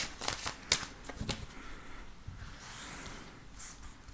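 Tarot cards are shuffled close up for a reading: a few sharp riffles and slaps at the start, then softer sliding and rustling as the deck settles, with no talk over it.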